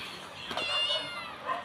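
A single drawn-out cat meow, close and clear, rising and then trailing off, with no talking over it.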